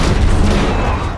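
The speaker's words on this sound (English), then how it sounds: "Check out those explosions." Loud, dense explosion rumble from the action movie Six Underground, a continuous roaring blast with crackling debris that fades slightly toward the end, heard without voices.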